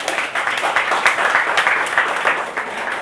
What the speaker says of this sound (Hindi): तालियां बजा दो मेरे लिए प्लीज।